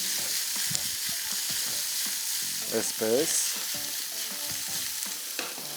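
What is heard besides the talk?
tofu lightly frying in a pan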